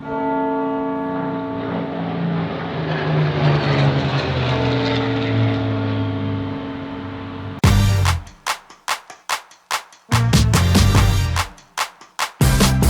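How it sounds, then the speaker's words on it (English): Two World War II Spitfire aircraft fly past, their engine drone rising and sweeping over for several seconds, then giving way to loud choppy gusts and thumps at close range. "capture footage of 2 World War II Spitfires on a flypast, or flyover"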